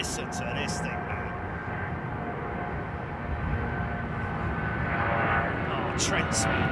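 Rolls-Royce Trent jet engines power an airliner departing Heathrow, a loud continuous roar building slightly over several seconds, with people talking over it nearby.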